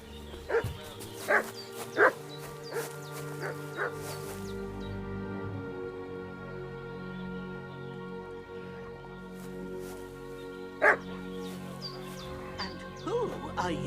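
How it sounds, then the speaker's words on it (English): A dog in the medieval game Kingdom Come Deliverance 2 barks several times in quick bursts, then again later, mid-distance, over ambient game sound and voices talking. "What's that dog making such a fuss about?"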